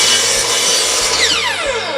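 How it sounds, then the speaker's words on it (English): A sliding compound miter saw cross-cuts a wooden board in a classroom shop, giving a loud, steady rasping whine with the blade's pitch sweeping down near the end of the cut, and no talking. "Here's this sliding compound miter saw that we have in our classroom, and I'm going to start by cross-cutting my board to the right length."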